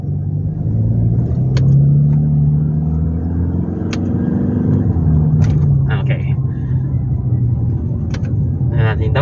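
Toyota Fortuner 2.8 engine revving through paddle-shift downshifts, a loud steady rumble with rising and falling engine tones under continuous talk.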